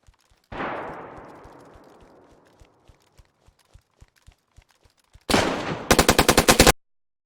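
A single loud gunshot with a long fading echo, then faint ticking footsteps, followed by a short burst of rapid automatic fire from an AR-9 9mm pistol-caliber rifle and a SCAR in DayZ, close and sharp.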